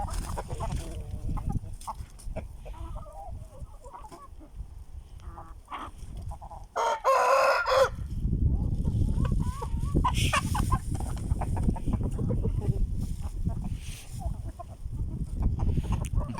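Chickens cluck and murmur close by, with a burst of louder squawking partway through over a steady farmyard background.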